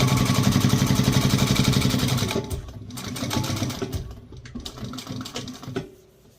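Sewing machine top stitching a water bottle bag at an eighth-inch seam allowance: a fast, steady mechanical whir of rapid stitches for a couple of seconds, then it slows and stops amid softer handling clicks and rustles.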